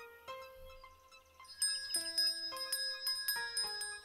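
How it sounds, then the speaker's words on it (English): Bright, ringing ice cream truck bell tones chime repeatedly in an irregular pattern, clear and fairly close, with no voices. "I was ringing the bell."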